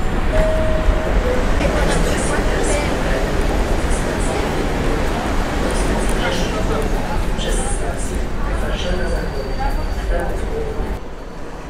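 A train rumbles steadily in the large echoing Warsaw Central station, with a brief high squeal early on and a voice speaking Polish over the din.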